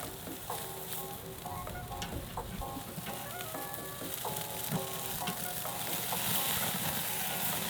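Meatballs sizzling steadily on a grill beside caveman-style spaghetti, a continuous close crackle and hiss with occasional sharp pops and scraping, no talking.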